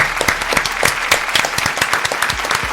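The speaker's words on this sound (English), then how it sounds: "Can we clap it at one time for Sarah J on the podcast?" A small group of three people on a podcast clapping together, a dense run of sharp hand claps lasting a few seconds at close range.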